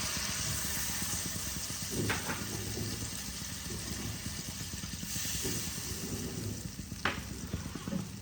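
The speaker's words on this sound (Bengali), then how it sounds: "মশলা দেখো আমার কষে এসেছে" Masala spices sizzling and frying steadily in a pan while preparing an ilish fish curry with kalo jeere, a continuous close crackle with a few sharp clinks of a utensil against the pan.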